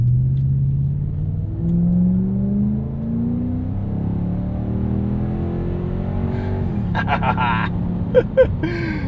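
A 300-horsepower car fitted with a Megan exhaust accelerates hard, its engine note rising steadily through the gears for several seconds, loud and close, ending with a couple of sharp pops.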